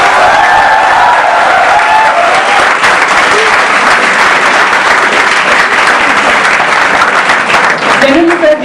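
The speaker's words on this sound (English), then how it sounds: "Round of applause for" An audience applauds to welcome actor Kabir Bedi at a motivational speaking event: dense, loud, sustained clapping that fills the whole stretch, with some cheering mixed in and a voice emerging near the end.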